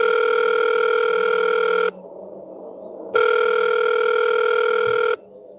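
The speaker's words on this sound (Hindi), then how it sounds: "एक रूम के गेस्ट ने कॉल किया।" An incoming call rings on a telephone in two long electronic tones separated by a short pause, steady and clear, heard alone.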